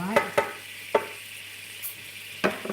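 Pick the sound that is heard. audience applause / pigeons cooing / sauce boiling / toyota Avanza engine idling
sauce boiling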